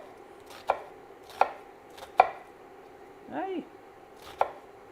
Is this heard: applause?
no